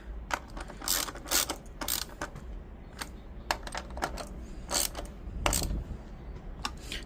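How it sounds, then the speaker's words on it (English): Spring nuts are run down on the studs of a Schwinn bicycle seat, giving irregular bursts of sharp metallic ratcheting clicks with short pauses between turns over a quiet background. "Just gonna go ahead and start with these spring nuts. Just gonna run them down."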